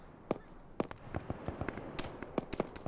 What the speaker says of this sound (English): And a grenade goes off.